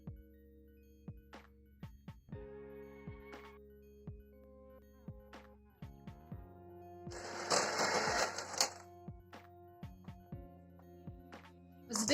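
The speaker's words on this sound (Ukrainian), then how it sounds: "Збільшуємо швидкість і підсипаємо цукор. Збиваємо білки до стійких піків." An electric mixer whips egg whites with sugar toward stiff peaks for a berry pie, a steady whining motor hum with rattling clicks of the beaters against the bowl, swelling into a louder whirring burst midway.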